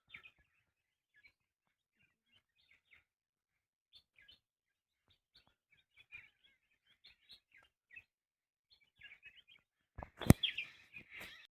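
Jungle babblers call in a forest near Mahabaleshwar: scattered, faint chirps repeat over about ten seconds, then a sudden louder, harsh burst of chattering calls comes close at the end.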